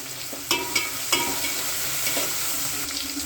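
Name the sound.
sautéing tomato in a pan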